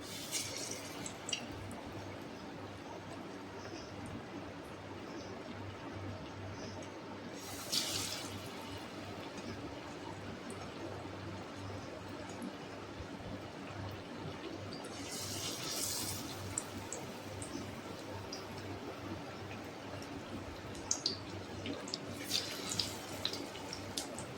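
Paneer pakoras coated in besan batter sizzle steadily in hot oil, a continuous crackling fry with a few brief louder bursts of spitting, close and alone with no talk.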